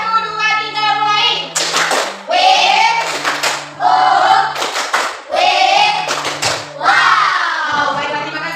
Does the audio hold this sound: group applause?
yes